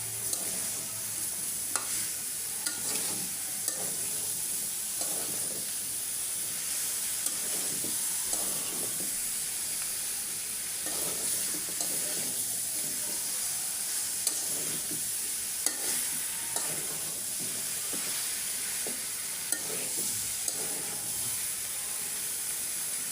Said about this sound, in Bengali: এখন আমি লাউটা দিয়ে দেব, লাউটা ভালো করে কষায় নেব।